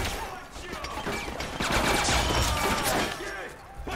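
Machine gun fire from 50 Cent: Blood on the Sand, a dense, sustained burst of rapid shots with loud crashing impacts and layered game effects, running nearly throughout.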